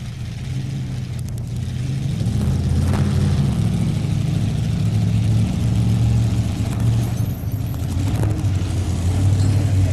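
A pulling truck's engine roars at a tractor pull during a 1993 farm machinery show, a loud sustained low rumble heard from the stands over arena ambience.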